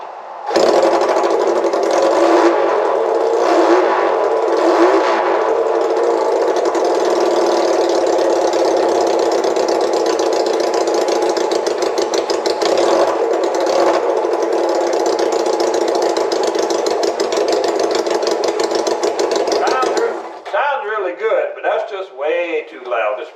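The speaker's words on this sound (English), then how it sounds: "try running it some without the muffler just to see what it sounded like. And quite frankly, it's way too loud for me." A Honda CL175 motorcycle engine runs with its muffler removed, a loud, raw, rapid-firing bark held for about twenty seconds before it cuts off, leaving only faint clinks and movement.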